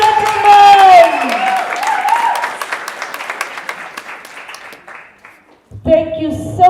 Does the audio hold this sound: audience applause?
yes